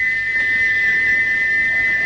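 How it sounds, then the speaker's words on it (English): Gordon the steam engine's whistle, its valve stuck open, blows as one continuous shrill, piercing tone that holds steady and loud from start to finish. "he wouldn't stop whistling until two fitters climbed up and knocked his whistle valve in place"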